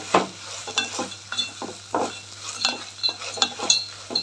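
Coconut and tamarind frying in a pan for chutney, a soft sizzle beneath repeated scraping strokes of a spoon stirring at an irregular rhythm, close and with no voices.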